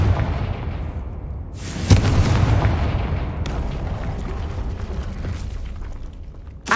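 Confringo fire spell blast in the Hogwarts Legacy video game, a loud booming explosion with a sharp burst near the two-second mark and a rumbling tail, alone without voices.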